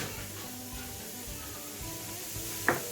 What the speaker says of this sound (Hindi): अब मैंने इसमें साबुत मसाले ऐड किए।